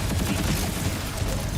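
Sustained cryo-weapon fire in Borderlands 4 against an armored enemy: a steady, loud stream of shots with no break.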